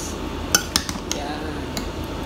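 Ingredients for Arabic suman mixed in a bowl in Qatar, a steady close stirring rumble punctuated by several light utensil clinks against the bowl.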